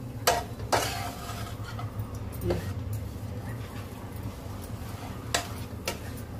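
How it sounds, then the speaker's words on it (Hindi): Karela sabzi being stirred and mixed in a pan, with a few sharp utensil scrapes and clicks against the pan over a low, steady kitchen background. "डाल करके इसको अच्छी तरह से मिक्स कर लेते हैं।"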